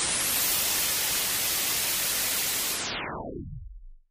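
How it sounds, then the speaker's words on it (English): Steady, loud broadband hiss of white noise filling the whole range, holding evenly for several seconds before fading out at the end. "white noise is a combination of all the frequencies that we can hear"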